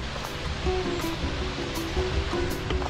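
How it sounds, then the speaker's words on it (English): Rushing water from a waterfall beside a house, a steady broad roar heard at moderate distance with faint rustling and soft thumps of footsteps while walking. "I hear this like water sound"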